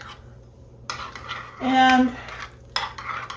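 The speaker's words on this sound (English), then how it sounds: "We're just going to stir this up to combine." A utensil stirs a sugar, cinnamon and nutmeg topping in a bowl, giving a short scraping, clinking burst with a ringing tone, plus a few light taps on either side.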